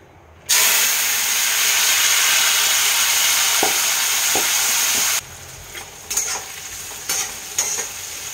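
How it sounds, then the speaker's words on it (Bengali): Small chopped bitter gourd pieces hit hot mustard oil with a loud, sudden, steady sizzling hiss that lasts several seconds. The sizzle then drops to a softer frying sound, broken by a few light stirring clinks. "তেলটা গরম হলে আমি উচ্ছেগুলোকে"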